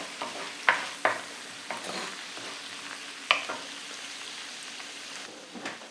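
Garlic frying in oil in a pan over lowered heat, a soft steady sizzle with a few sharp clicks and stirring taps scattered through it, no voices.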